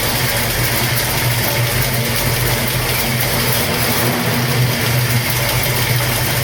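A 1973 Camaro engine idles steadily right after a gear drive swap, a loud, continuous close-up rumble with a dense, even drone and no break in the running.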